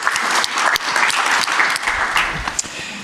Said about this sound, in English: Round of applause for Franz.